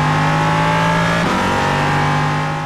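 Ligier LMP3 race car engine in the iRacing sim, a loud sustained tonal drone that holds steady and briefly dips mid-run, like a shift or lift, before carrying on.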